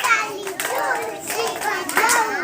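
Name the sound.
children clapping hands loudly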